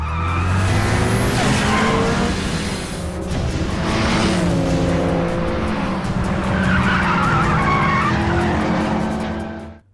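Race cars at the start of a street race in a film scream off the line, tires skidding and squealing loudly over roaring engines for about ten seconds before cutting off abruptly.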